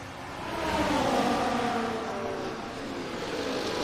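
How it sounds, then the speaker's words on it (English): Pack of F1 race cars launching at the start of the Miami sprint race in an F1 video game, a blended engine roar swelling and then holding steady at moderate distance. "it's lights out, and we are underway with the Miami sprint race"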